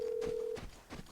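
A telephone ringing in the Vigor video game, a steady electronic tone lasting about half a second, followed by soft thuds and scuffs at low volume.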